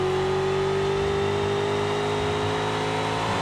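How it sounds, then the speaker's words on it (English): A drag car in a racing video game screams down the drag strip, its engine holding a loud, steady high-revving drone with a rising tone throughout, close and uninterrupted by talk. "Three-wheeling down the drag strip."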